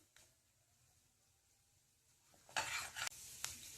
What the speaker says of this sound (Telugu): ఈ నూనెలో కొద్దిగా తాలింపు వేగాలండి